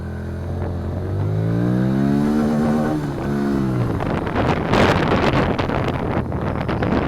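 A 2017 SSR motorcycle, a Honda Grom clone, accelerates hard through its short gears: a small engine's rising whine climbs quickly, drops at a shift, then carries on under heavy wind rush.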